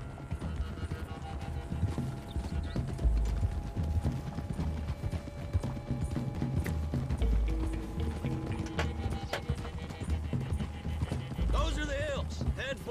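Steady hoofbeats of galloping horses pound under a busy game soundscape in Red Dead Redemption 2, with occasional voices talking and a brief horse whinny near the end.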